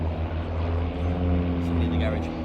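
Propeller engine drone from small MFI-15 Safari aeroplanes in a formation flying display at an airshow, a steady continuous hum heard under a commentator's voice.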